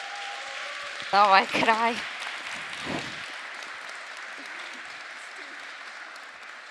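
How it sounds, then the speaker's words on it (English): Applause from the audience at a conference talk, a steady even clapping that continues through the clip under a short spoken remark near the start. "a huge round of applause for Tatiana Bazzichelli"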